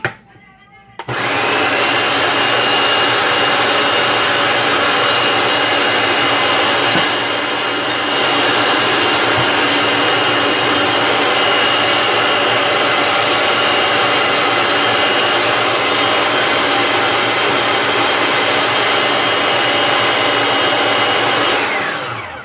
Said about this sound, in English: It's pretty good, but it needs to puree a little longer.